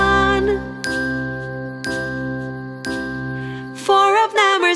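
Bright chiming morning bells ring in a steady pattern, struck about once a second with sustained ringing overtones, then a quicker flurry of higher chimes.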